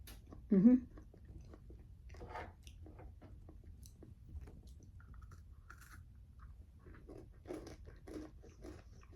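Crunchy sugar-coated spritz cookies are chewed close to the mic, a quiet run of soft crunching bites and mastication, fairly faint overall.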